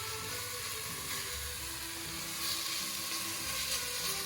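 Vegetables and red pepper sizzle steadily in a hot pan while cooking for meatballs and gravy, a constant, close frying hiss with no talking.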